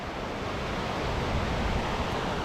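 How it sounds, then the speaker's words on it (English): Waterfalls rush through a carved river valley, a steady, dense roar of falling water that stays even and fairly loud for the whole stretch, with no one speaking. "it's just waterfalls even there"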